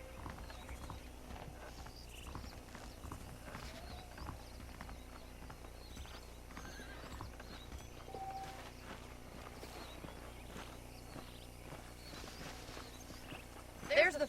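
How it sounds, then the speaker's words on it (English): Horses clip-clop steadily through the Red Dead Redemption game world, hooves plodding in a continuous walking rhythm beneath game music and ambient sound, with a faint whinny possible near the end. "The horses are saddled up over here."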